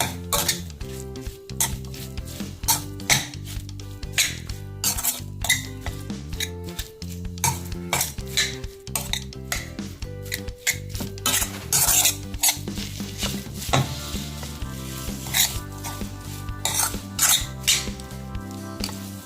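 Mashed boiled potato is worked together with bread and spice powder in a bowl, a busy run of squelching, clinking and scraping utensil strokes, close and fairly loud throughout, with no voices.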